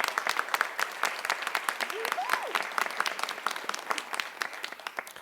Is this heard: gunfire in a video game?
no